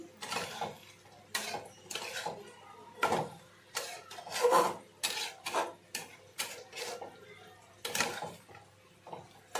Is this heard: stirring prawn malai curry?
yes